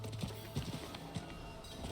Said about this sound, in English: How do I speed up on the horse?